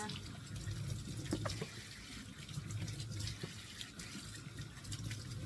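Fresh mushrooms are washed in a colander under running tap water, a steady close splash and trickle of water hitting the mushrooms and metal, continuous throughout with no talking.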